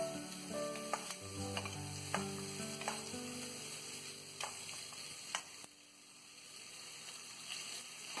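Onions with a little turmeric frying in a pan, a continuous close sizzle with scattered light clicks and scrapes of a utensil.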